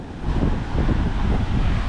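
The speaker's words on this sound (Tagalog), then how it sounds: "Lalo lumakas ang hangin" Strong wind gusting over the shore at high tide, a loud steady rush of broadband noise buffeting the microphone with a low rumbling of surf beneath, no voices.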